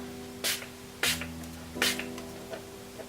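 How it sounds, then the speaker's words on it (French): Three short, crisp hisses of a Primark Primer Water face mist being sprayed, each about a quarter second, separated by brief pauses in a quiet room, followed by a fainter fourth puff. "je vais le sprayer par dessus, comme ça en même temps ça m'aidera à estomper"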